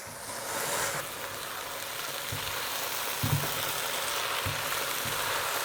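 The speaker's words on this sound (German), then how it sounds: "Und lasse es noch ein bisschen anbraten." Floured beef for goulash sizzles steadily in a hot pan, a constant crackling hiss with a few soft thumps of stirring.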